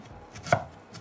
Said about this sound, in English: Finely chop a red onion.